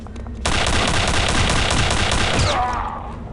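Sustained automatic gunfire fired at the player in Return to Castle Wolfenstein, a dense rapid volley that starts abruptly, stays loud and close for about two seconds, then tapers off.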